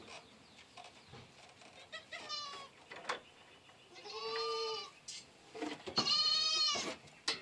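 Three loud, drawn-out goat bleats with a wavering, nasal tone, spaced a second or two apart, over faint rustling and shuffling nearby.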